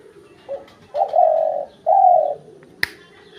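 A hunting decoy pigeon calls nearby: a short note followed by two longer, loud coos, then a single sharp click, alone against a quiet background.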